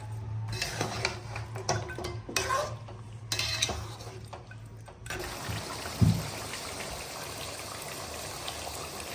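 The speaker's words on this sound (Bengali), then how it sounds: "মাংস আর পানিটা আবারও আমি খুব ভালো করে নাড়াচাড়া করে নেব।" Beef and warm water being stirred in a cooking pot, with a spoon scraping and swishing through the liquid and meat in steady strokes up close, a sizzle underneath and one sharper knock against the pot.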